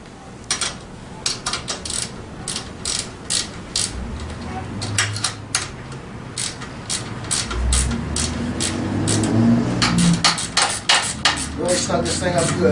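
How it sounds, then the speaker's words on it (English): A nut is tightened on a Tao Tao 90 dirt bike during assembly, with a series of sharp metallic clicks and taps that give way to a denser run of ratcheting and scraping toward the end. "Put your nut on the other end and tighten it down good."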